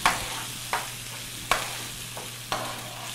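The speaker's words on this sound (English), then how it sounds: "So we will saute our saltfish boljol into the tomato" Saltfish boljol being sautéed into tomato in a pan, heard as a low, steady sizzle with a few sharp stirring scrapes spaced about a second apart. Nearby and fairly quiet, with no talking.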